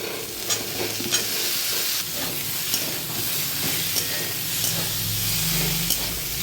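Ridge gourd pieces tossed into a hot pan of frying potatoes, a steady sizzle and hiss with intermittent scraping stirs and small clinks throughout.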